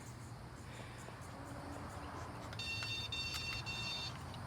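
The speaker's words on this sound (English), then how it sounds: "So if she barks, I just beep the collar" A dog training collar emits a high electronic beeping tone that pulses repeatedly over a steady hum of background noise, close and fairly clear.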